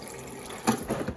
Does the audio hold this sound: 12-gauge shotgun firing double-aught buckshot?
no